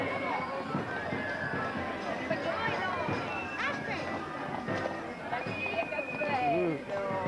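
Horse hooves clip-clop steadily amid a busy outdoor festival crowd at the Festa del Grano in Raddusa, with chatter, a horse's whinny and scattered background noise throughout.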